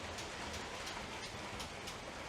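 Motorized Lego train wagons run steadily along a track, giving a continuous close rolling rumble with faint clicking from wheels and joints and no voices.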